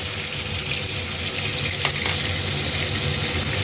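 Spices and green chili paste tempering in hot oil for a small-shrimp dish, giving a steady, dense sizzle that runs unbroken throughout, with a brief clink near the middle and no voices.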